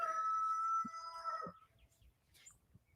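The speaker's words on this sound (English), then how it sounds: "It's the roosters right over here." A rooster crows once, fairly close and clear, then fades into quiet outdoor background with faint distant bird sounds.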